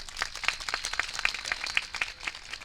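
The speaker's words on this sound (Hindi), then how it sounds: "एक बार जोरदार तालियां आनी चाहिए।" Audience applause at a mushaira poetry gathering in Barharaganj, Kushinagar, a fairly faint, brisk run of clapping with irregular sharp peaks, heard alone without talk.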